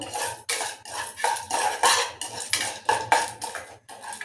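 Chana dal being roasted in a metal pan, with a spoon scraping and clattering against it in a brisk, uneven rhythm of close, loud strokes.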